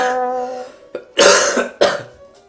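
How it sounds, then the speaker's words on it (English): A man with a lingering cough lets out two loud, harsh coughs close to the mic, following a brief voiced sound and a small throat click. "Sorry, sorry about the coughing."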